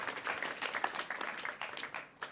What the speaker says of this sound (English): So first, big round of applause.